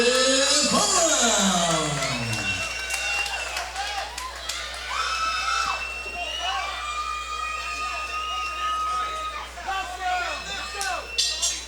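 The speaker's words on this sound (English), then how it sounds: "Fight fans, put your hands together and cheer the fighters on" Fight fans at a live boxing event cheer and whoop loudly, a dense roaring crowd filling the whole stretch with rising shouts, whistles and babble, while a ring announcer talks over the noise.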